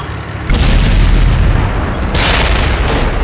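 A tank gun fires in World of Tanks, a T21 light tank battle: a sudden heavy boom after a brief quiet moment, then a rumbling tail and a second burst of noise, loud and close.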